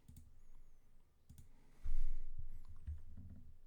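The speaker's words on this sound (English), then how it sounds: "we click on the actual X" Computer mouse buttons clicking at a forensic imaging workstation, several sharp separate clicks spaced out over a low room hum.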